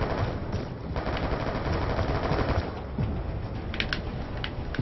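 Rapid automatic gunfire in the Black Ops 2 video game, a dense sustained burst of shots followed by a few sharper single cracks near the end.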